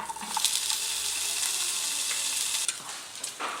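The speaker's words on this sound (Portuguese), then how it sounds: "Eu vi ali que eu tinha um restante de um bacon, aí eu vou fritar aqui também" Leftover bacon frying in a pan on a wood-fired stove, a steady bright sizzle with a few crackles and pops, fairly soft and close with no talking.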